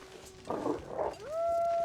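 Wolf howl from a Timby pack in a video game: a long rising, sustained tonal howl that swells after a short burst of rougher noise, fairly close and alone.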